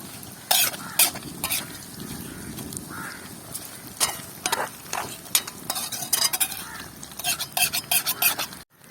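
Herbal hair oil simmering over a low flame, a steady soft bubbling hiss broken by sharp clicks and scrapes of a spoon stirring against the pot, close up with no voices.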